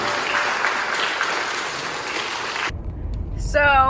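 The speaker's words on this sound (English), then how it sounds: "Ladies and gentlemen, can we get a big round of applause for all of those beautiful folks" Wedding guests give a hearty round of applause, dense clapping that cuts off abruptly partway, followed by a quiet gap and a brief tonal sound at the end.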